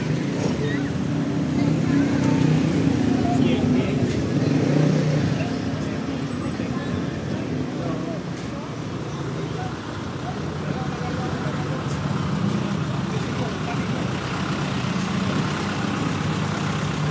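Steady low engine rumble and traffic noise fill a tricycle parking area with a garden nearby, idling motors droning continuously under a voice talking throughout.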